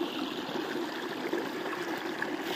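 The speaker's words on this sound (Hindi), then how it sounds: "बहुत ज़्यादा पानी उतर रहा है इधर से" Water flows steadily down a small stream, a constant close rushing trickle with no breaks and no voices.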